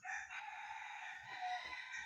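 A red junglefowl rooster crows loudly and close by in one sustained, wavering call that runs through the whole stretch, with no other sound intruding.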